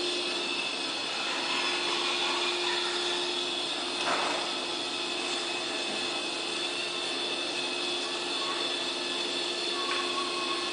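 Laminating machine running steadily as a plastic sheet feeds through its rollers via the feed guide and exits at the back; a continuous loud mechanical whir and hum with a brief swell partway through, no voices.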